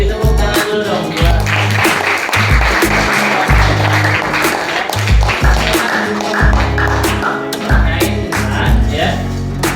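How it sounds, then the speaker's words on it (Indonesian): Classmates applaud during a student presentation on European arrival in Indonesia, a loud dense clapping wash throughout, mixed with heavy rhythmic low thumping like tapping on desks. "beri tepuk tangan dulu dong ya"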